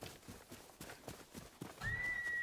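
A horse whinnies and its hooves clip-clop steadily in the video game Ghost of Yotei, heard at moderate volume with no talk, and a thin whistling tone enters near the end.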